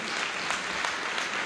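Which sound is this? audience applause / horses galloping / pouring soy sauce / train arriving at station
audience applause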